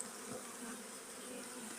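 Steady, dense buzzing of many honeybees close by, shaken from hive frames, a continuous droning hum that holds at an even level throughout with no voices.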